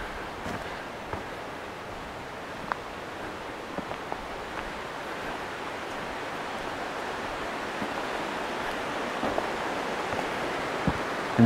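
The McKenzie River flows through the woods as a steady, even rush of water, soft and fairly distant, with faint wind and a few light clicks on top and no voices.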